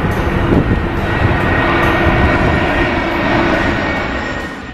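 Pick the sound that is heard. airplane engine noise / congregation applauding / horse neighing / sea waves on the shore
airplane engine noise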